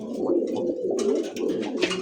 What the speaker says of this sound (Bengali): এই মুহূর্তে দেখতে পাচ্ছেন দুই দুইটা কবুতর, একটা ব্লু শার্টিন